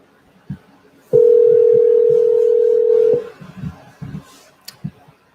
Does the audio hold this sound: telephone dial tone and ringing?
yes